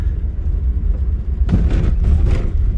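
Congested traffic of cars queued along the road in Dadap, Kosambi, Tangerang: a constant low engine drone, swelling louder midway as a nearby vehicle moves past, with broadband road noise.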